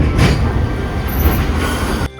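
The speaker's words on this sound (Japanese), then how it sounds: "五稜郭を観光すべく路面電車に乗車します。" A Hakodate streetcar runs along its rails, a loud rumbling roll with screeching wheel squeal and clattering track noise heard from on board, ending abruptly.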